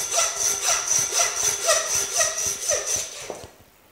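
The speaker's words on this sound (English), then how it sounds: "When you hear the saw stop through the bone, stop, use a knife." A hand saw cuts through a lamb's hip bone while butchering a home-killed lamb rump, with rhythmic back-and-forth rasping strokes about two per second, close and clear, stopping abruptly near the end.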